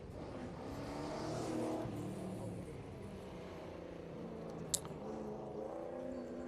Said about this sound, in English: Barry Evans in the MGB GT V8. The flag drops and away he goes.